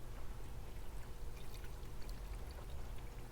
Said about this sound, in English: We're going to pour the entire gallon of water on it